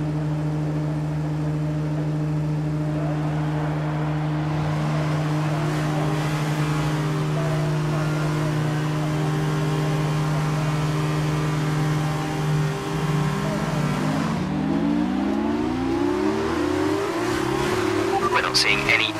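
Formula 2 race cars lined up for a full race start at Bahrain in the F1 2019 game. A steady multi-engine drone holds for most of the clip, then several engines climb together in pitch as they rev and pull away near the end.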